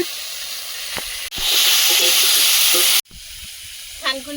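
Vegetables fry in a pan for a thin mrigel fish curry with green banana and potato, a loud sizzling hiss surging in a sustained burst, cut off sharply, then quieter frying with brief clatter.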